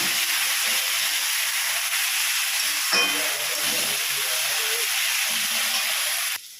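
Ginger-garlic paste frying in hot oil for a fish-bone chorchori, with a steady loud sizzle and hiss throughout, joined by faint scraping of stirring; the sizzle cuts off abruptly at the end.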